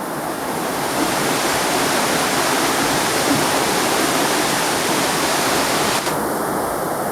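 Mag Brook at Honley in flood: a loud, close, continuous roar of rushing river water, steady and broadband throughout, with no voices.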